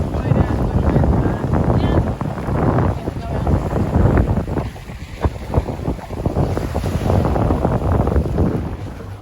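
A boat approaches a coastal shore on the Freycinet Peninsula to collect hikers, its low engine drone mixed with heavy wind buffeting the microphone and waves washing nearby, steady and fairly loud.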